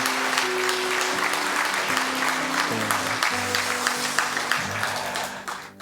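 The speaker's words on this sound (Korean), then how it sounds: "우리 격려의 박수 한번 부탁하겠습니다" At a Sunday worship service, a congregation applauds to encourage a missionary: full, continuous clapping with sustained keyboard tones beneath, holding steady before tapering off at the close.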